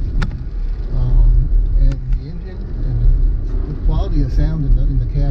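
Steady low road rumble inside the cab of a vehicle with a Pentastar V6 engine while driving, a continuous hum beneath a person talking throughout.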